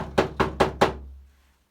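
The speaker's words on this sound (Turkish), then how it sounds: "Kapı çalıyor." Four evenly spaced knocks on a wooden door sound from a Turkish traditional theatre (ortaoyunu) stage, sharp and fairly close, followed by a short fading tail and no speech.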